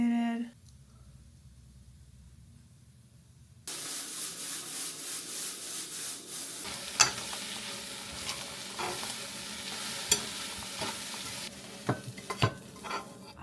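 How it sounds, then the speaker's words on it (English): Food sizzles and crackles in a hot pan while being fried and stirred, a hissing bed with sharp scraping clicks from stirring, starting after a quiet lead-in and staying close and moderate in level. "You can hear it sizzling and I'm so excited."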